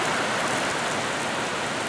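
Torrential rain pours down in a steady, dense hiss that fills the whole clip, loud and unbroken, with no voices.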